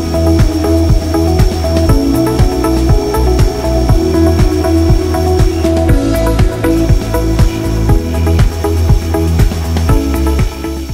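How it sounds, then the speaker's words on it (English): Metal lathe turning a gyroscope wheel held in a four-jaw chuck, a steady loud mechanical whir with a regular rhythmic ticking pulse throughout, no voices. "and then I can machine the other surfaces."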